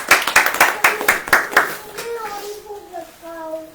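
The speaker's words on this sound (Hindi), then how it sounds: "ताली बजाएं।" A congregation at a Hindi-language church sermon claps hands together in a fast, steady burst of about a dozen claps, followed by a man singing or chanting alone.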